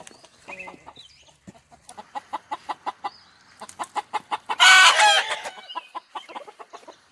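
Backyard chickens cluck in a steady run of short, repeated calls, close by and fairly loud, with one louder burst of squawking midway before the clucking carries on.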